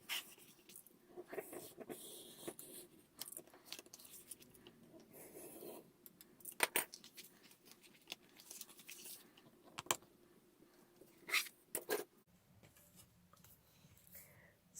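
A craft knife cuts out card on a board in soft, scratchy scraping strokes that come and go irregularly, with a few sharper clicks and taps, all quiet and close with no voices.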